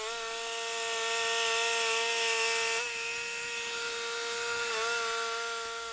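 A sawmill cuts a Dawn Redwood log about 8 feet long and 17 to 18 inches thick into 2-inch slabs, giving a loud steady tonal whine with a slight dip in pitch partway through.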